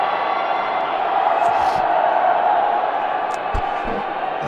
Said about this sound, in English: They have a good crowd on hand here following the defenders.